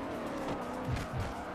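A race car in Forza Motorsport 4 on Xbox 360 brakes hard, with tires squealing and skidding over a continuous engine roar, a couple of short squeal bursts in the game audio.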